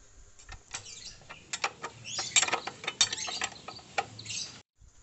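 A wrench tightening a bolt on a motorcycle mudguard fitted to a Yamaha MT25/R25, giving a quick series of close, sharp ratcheting clicks in uneven bursts, then stopping abruptly.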